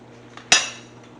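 A metal utensil stirs sauce into mushrooms with oregano and thyme in a pan off the heat, giving one sharp, close clink against the pan that rings briefly over a quiet background.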